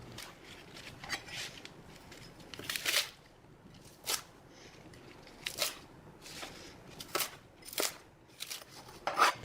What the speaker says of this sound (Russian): Крупно нарезать 2-3 листа зеленого салата.